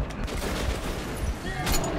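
Gunfire in the Metro 2033 video game: dense, rapid shots rattling continuously at close range in a tunnel-like setting, with a louder burst near the end.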